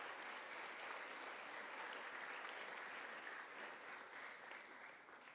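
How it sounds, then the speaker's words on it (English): Audience applause at a fifth grade moving-up ceremony, a dense, even wash of clapping from a large crowd that holds steady and eases off near the end. "We can give him a round of applause."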